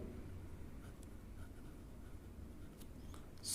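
Pen scratching on paper or board in short strokes, faint against a low steady background hum, with a few soft taps scattered through.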